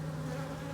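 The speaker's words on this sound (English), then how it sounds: "Nectar, good population of bees." Honey bees at an opened beehive give a steady, close, low-pitched hum of many wings that holds evenly throughout the short moment, with no talk.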